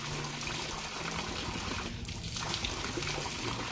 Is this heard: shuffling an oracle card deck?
no